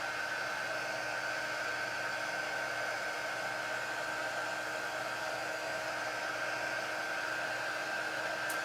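A hair dryer blows on a craft board with a steady, even whirring hiss and a constant high whine, running unbroken and fairly quiet throughout.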